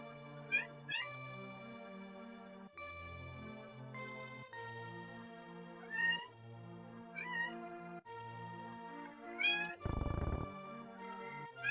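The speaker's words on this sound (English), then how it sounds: "distracted by my cat" A house cat meows repeatedly at close range, a series of drawn-out, wavering calls with short pauses between them, while a video game's music plays continuously in the background.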